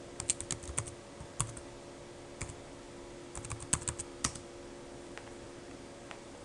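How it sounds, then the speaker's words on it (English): Password being typed on a computer keyboard, close-up: scattered bursts of crisp key clicks in short irregular clusters with pauses between them, no talking. "and then I'll just type in my password."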